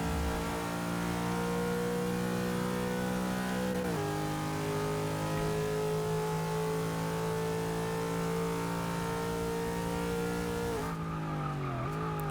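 A Subaru 22B engine in Forza 6 climbs steadily in pitch with a rich harmonic whine, dropping briefly at a gear change and again near the end amid tire squeal, loud and close with no talking.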